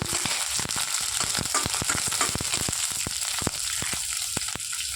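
Green chillies fry in hot oil for a mint chutney, giving a steady close sizzle dotted with sharp crackles and pops throughout, with no voices.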